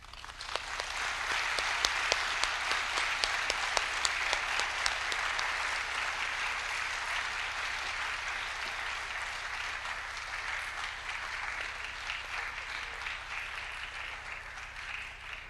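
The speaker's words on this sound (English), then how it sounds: "big round of applause to Dr. Junko Yokota." Sustained audience applause at the Hans Christian Andersen Awards ceremony of the 38th IBBY World Congress, a steady dense wash of many hands clapping that holds at an even level for its whole length with no speech.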